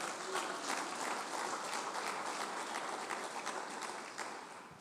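Steady, dense applause from a sizeable church congregation, continuous clapping that tapers slightly toward the end.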